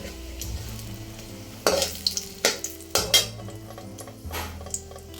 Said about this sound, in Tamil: எண்ணெய் வச்ச கையோடையே நான் வந்து பிரியாணி இலையும் போட்டுக்கிறேன்